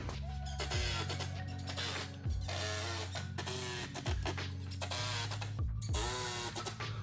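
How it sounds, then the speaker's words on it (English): A power drill drives a screw into an Omniwall tool wall panel, whirring loudly in repeated pulses with pitch dips between bursts, close and continuous for several seconds. "I'm gonna add one more screw right in the middle just to hold this a little more securely"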